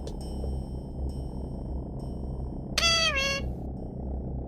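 A cat meows once in a video game, a clear, bright, drawn-out meow standing out over a quiet low hum and soft chime-like tones.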